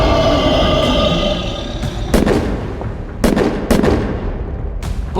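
Several sharp gunshot sound effects in a comic-book style dramatization, irregular single bangs after a sustained tonal hum, loud and close with short decays.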